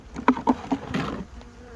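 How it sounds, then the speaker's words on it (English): Bees in a full hive box hum and buzz close by in short pulsing bursts, a few louder drones rising and fading over a low background murmur. "So that is one big box full of bees."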